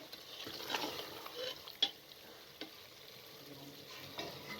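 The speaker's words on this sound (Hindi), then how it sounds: "अब आपने इसके अंदर जो भिंडी को हमने फ्राई किया था उसको शामिल कर दें और हल्के हाथ से आपने मिक्स कर देना है" Fried okra is gently folded into a mutton gravy in a pot, a faint, steady simmering sizzle with a few light spoon scrapes and taps against the pan.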